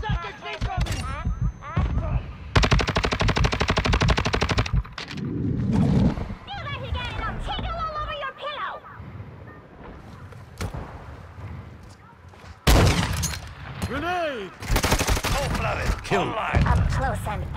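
Rapid automatic gunfire from Call of Duty bursts out in a dense, loud battle mix, with repeated shots, explosions and shouting voices layered over it, alongside stretches of game dialogue and effects.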